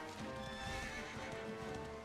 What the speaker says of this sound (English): My horse sounds like a friggin' dinosaur when I gallop.